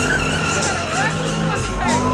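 A Cadillac CTS-V does a burnout at the Dropfest 2008 car event, its tires screeching loudly against the pavement over a steady engine roar, with crowd voices mixed in.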